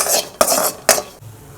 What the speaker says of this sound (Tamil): இதையும் போட்டு நல்லா வறுத்துக்கலாம். வெறும் சட்டியில் தான் வறுக்கணும்